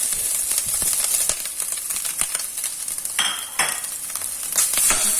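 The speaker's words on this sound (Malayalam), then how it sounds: "തീ കുറച്ചിട്ട് നമുക്കൊന്ന് വറുത്തെടുക്കാം." Grated coconut is stir-fried over low heat in a pan for a Kerala-style chicken roast, giving a steady sizzling hiss broken by repeated scraping strokes of a spoon, fairly close and with no talking.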